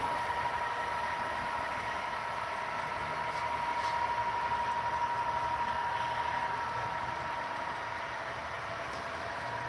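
An HO-scale model train runs steadily with a continuous whirring, rumbling hum and a faint high whine, close by and unchanging for several seconds.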